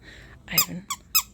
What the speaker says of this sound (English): Oh, and it's a squeaky.